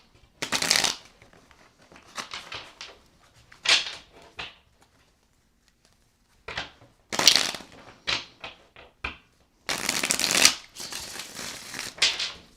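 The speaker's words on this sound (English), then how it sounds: "last shuffle" Tarot cards are shuffled by hand in several bursts of crisp riffling and shuffling, separated by short pauses, with no talking.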